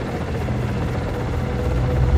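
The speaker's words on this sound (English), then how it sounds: "Send the chopper over and soften him up." A helicopter in the video game Manhunt 2 thrums steadily with a loud, continuous low rotor drone and mechanical whine, close and unbroken throughout with no talk.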